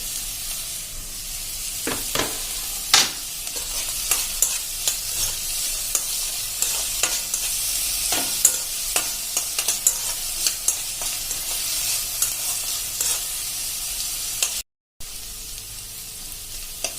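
Vegetables with chopped capsicum cooking in a pan for macaroni pasta, a bright continuous sizzle with frequent sharp spatula scrapes and knocks, close and fairly loud, briefly cutting out near the end.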